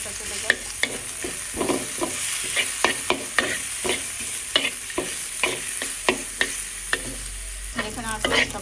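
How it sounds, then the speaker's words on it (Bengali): Onions fry lightly in oil in a home kitchen, with a soft continuous sizzle broken by repeated scraping stirs of a spatula against the pan. "অত লাল করে ভাজবো না, হালকা একটু পেঁয়াজটা ভাজবো, যাতে পেঁয়াজের কাঁচা গন্ধটা চলে যায়"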